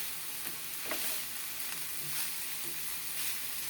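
Bitter gourd (ampalaya) sautés with shrimp paste in a pan, a steady close sizzle with faint stirring scrapes throughout.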